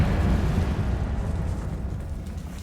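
A Confringo fire-blast spell explodes in Hogwarts Legacy, a dense, rumbling boom that swells loud at once and rolls on steadily, slowly fading across the moment with no voices over it.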